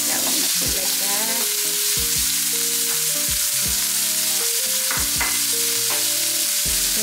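Small baby shrimp frying in a pan, with a loud, constant oily sizzle and crackle throughout while gentle music plays in the background.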